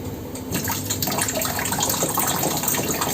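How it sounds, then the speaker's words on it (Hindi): Water is poured steadily into the tank of a Blue Star DA35LMA 35-litre desert cooler, making a continuous close splashing gush for a few seconds with no talk. "मैं यहाँ पे आपको दिखाने के लिए सिर्फ 2 लीटर पानी यहाँ पे डाल रहा हूँ"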